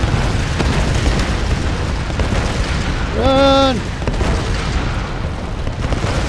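Deep booming explosion rumble from the video game Tomb Raider, a sustained low-heavy roar under game sound, with someone shouting a short command midway.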